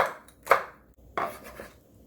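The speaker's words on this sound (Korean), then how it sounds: "청양고추하고 홍고추 송송 썰어주세요." A knife slicing Cheongyang and red chili peppers into thin rings on a cutting board, heard as a few sharp, close chops spaced apart with quiet gaps and no talk.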